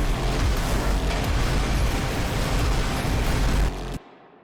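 Video game explosions overlaid with vine boom sound effects form a loud, dense, continuous wall of blasts and deep rumbling that holds steady for about four seconds, then cuts off abruptly into near silence.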